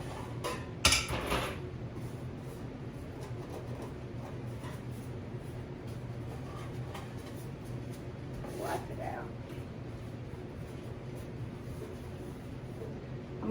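Metal pans being gathered and handled in a home kitchen near the oven, with one sharp clank early on followed by quieter scattered knocks and clinks over a steady room hum. No one speaks.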